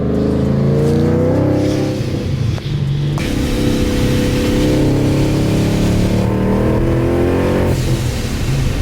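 A Procharged Ford Mustang revs hard and accelerates up close, its engine note climbing loudly through the gears with brief dips at each shift before pulling again.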